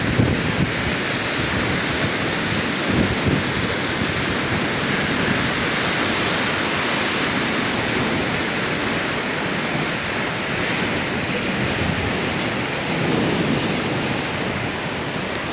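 Sea waves on Kuakata beach roll and wash in a steady, loud broadband roar that continues without pause, with wind buffeting the microphone throughout and no voices.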